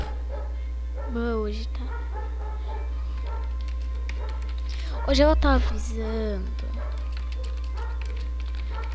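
A dog barks indoors, close by, in two or three short bursts over a steady low electrical hum while a person keeps talking in Portuguese.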